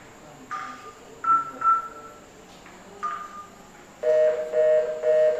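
Telephone keypad dialing number 1401 on an IP phone setup, a handful of short separate tone beeps followed by a steady two-tone ringback pulse, clear and close.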